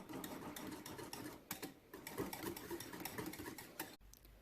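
Vanilla being whisked into pancake bread batter in a bowl, a quick rhythmic patter of whisk strokes clicking and tapping close by, steady and moderately quiet, cutting off abruptly near the end.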